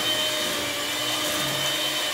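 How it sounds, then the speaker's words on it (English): Electric hand mixer whirring steadily through coconut milk and plantain flour fufu, a continuous close motor drone with a high whine, no talk over it. "Once you actually mix it with the mixer."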